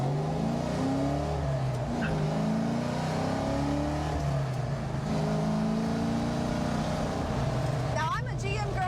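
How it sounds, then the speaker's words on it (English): A 1967 Mercury Cougar engine revs and pulls away with a rising, throaty drone heard from inside the car. A brief voice comes in near the end. "So now that you guys have seen me accelerate a little bit, you've seen the car driving around"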